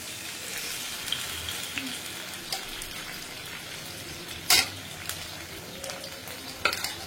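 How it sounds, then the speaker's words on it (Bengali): Marinated fish frying in a pan over a medium-low flame gives a steady, soft sizzle throughout, with a few sharper pops and spatters rising above it. "মাছটা কিন্তু ভাজার সময় অবশ্যই আপনাদেরকে চুলার ফ্লেমটা হচ্ছে একদম মানে মিডিয়াম"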